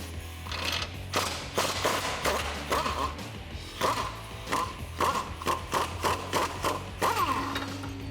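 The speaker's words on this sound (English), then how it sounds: "We're going to use a 21mm wrench and a 21mm socket to get that bolt out." A 21mm wrench and socket work a Jeep Wrangler JL track bar bolt loose at the axle, giving repeated sharp metallic clicks and ratcheting taps in irregular bursts, close and fairly loud against a low steady hum.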